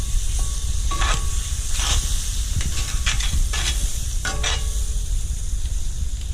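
Cold butter sizzles and spits in a hot pan while being stirred, a close, steady frying hiss broken by sharp crackling bursts every second or so, with no talk.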